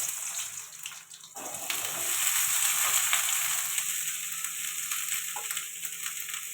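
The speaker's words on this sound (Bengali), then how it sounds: "এদিকে আলুটা ভেজে নেবো একটু" Potato pieces sizzle steadily in a hot pan with salt and turmeric for ghugni, a broad continuous frying hiss that swells after a quiet start, with no talking.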